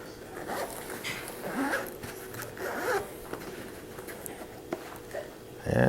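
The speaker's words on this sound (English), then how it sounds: "Zipper on top, got a little loop." Zipper on the hard carrying case of an Xbox One Elite controller, pulled in several short scratchy bursts close up, with brief pauses between strokes and faint handling noise around them.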